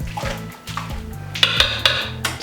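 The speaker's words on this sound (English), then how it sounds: "Just rake the thick grain up real good." Thick mashed grain for a pumpkin ale being raked and stirred in a metal brew kettle, giving repeated close scraping and clanking strokes with soft wet churning, loud and steady with no talk.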